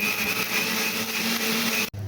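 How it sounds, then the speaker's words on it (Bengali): A mixer grinder blending mango into a smooth paste, its motor whirring loudly and steadily at close range before cutting off abruptly just before the end. "এটাকে আমি এখন মিক্সিতে পেস্ট করে নেব"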